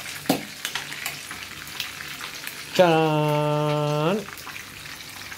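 Fresh danggit fish frying in a pan give a steady, soft sizzle throughout, while a voice calls out a long, drawn-out sung exclamation midway over the frying.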